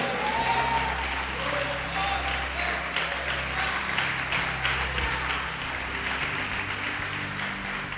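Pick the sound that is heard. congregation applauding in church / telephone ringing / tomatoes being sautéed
congregation applauding in church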